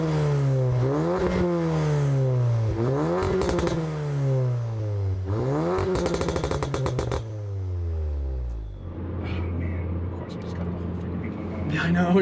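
A big-turbo E85 Audi A3 with about 520 wheel horsepower accelerates hard through repeated rising revs, each broken by a sharp shift and crackle, loud and close from inside the car, before settling into a rough idle-like rumble.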